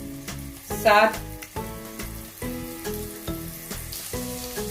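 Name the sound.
garlic ginger paste frying in oil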